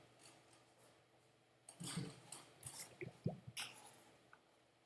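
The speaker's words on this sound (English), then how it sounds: "I don't know if y'all can hear it, but they're bubbles" A bubbles sound effect plays quietly in an After Effects preview: faint, irregular wet pops and drips clustered in the latter half, mostly alone over a low background hiss.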